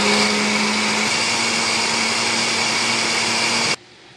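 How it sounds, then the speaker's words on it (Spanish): Blender whirring steadily as it purées a milk-based green sauce for green spaghetti, a loud even whine with a high motor tone that cuts off abruptly near the end. "Vamos a licuar, chicos."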